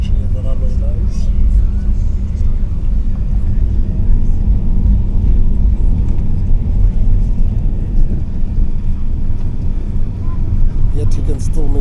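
Steady low roar of an airliner's engines as it accelerates down the runway for takeoff, a loud continuous rumble throughout with a person talking over it.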